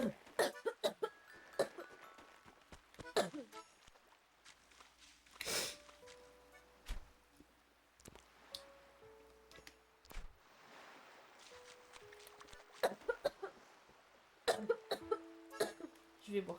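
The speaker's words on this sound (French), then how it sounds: "Vais-je arrêter de tousser un jour?" Repeated coughing in bursts, several harsh coughs spread across the stretch alongside a video game's ambient sounds and animal calls, fairly close and intermittent, with a voice heard between bouts.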